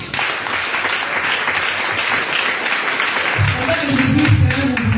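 A church congregation cheers and applauds for Jesus in a loud, steady wash of clapping and shouting that swells and thickens toward the end.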